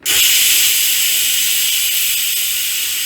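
A pressure cooker cooking tapioca vents steam in a sudden, loud, sustained hiss that starts sharply and holds steady for about three seconds, close and alone.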